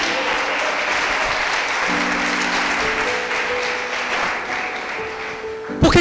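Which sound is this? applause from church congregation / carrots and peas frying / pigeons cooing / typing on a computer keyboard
applause from church congregation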